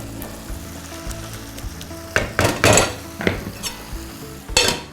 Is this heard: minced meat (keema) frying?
yes